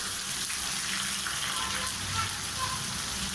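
Tomatoes added to sautéed onions frying in a pan for Chettinad-style fish kulambu, giving a continuous loud hissing sizzle close by, with no clear talk.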